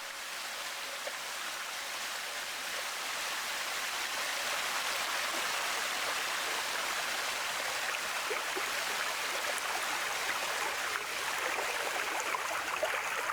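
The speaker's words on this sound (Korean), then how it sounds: "물 흐르는 소리 듣는 것 같아요." Steady, even rush of flowing water in a forest in Jincheon, Chungbuk, continuous and fairly close, with no voices over it.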